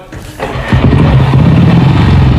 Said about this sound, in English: You want to hear start the with it. engine? Right, here we go then, boy.